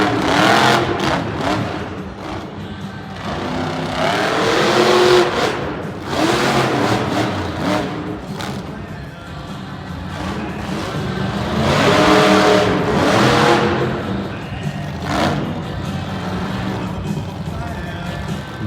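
Monster truck engines roar and rev in waves at an arena show, the loud engine surging and easing repeatedly, with a crowd and an announcer's voice mixed in.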